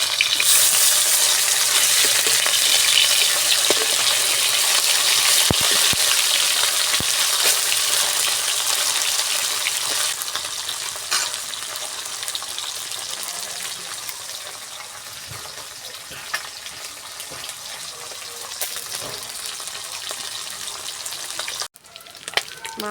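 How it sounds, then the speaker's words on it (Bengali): Garfish pieces sizzling in hot oil in a pan make a steady, close frying hiss with occasional crackles and pops. The hiss softens gradually over about twenty seconds and then cuts off sharply near the end. "এবার মাছগুলো ভেজে নেব।"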